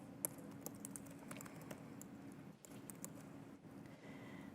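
Steady patter of typing on a computer keyboard while an email address is entered into a referral form, quiet irregular key clicks running throughout with no talking.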